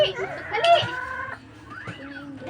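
Chickens cluck and squawk close by, a rooster-like call rising over the flock, with busy overlapping bird calls throughout.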